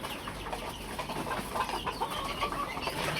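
A flock of about twenty hens and young chicks, mixed-breed farm chickens, cluck and chatter steadily while pecking at feed, a dense continuous scatter of soft calls close by with no talking.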